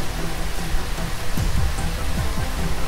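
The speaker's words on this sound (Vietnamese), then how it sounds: "Trên bầu trời, những đám mây đen ập đến, mưa bắt đầu rơi rất to." Heavy rain pours down in a dense, steady roar, loud and close with no let-up, as dark clouds roll in over a town.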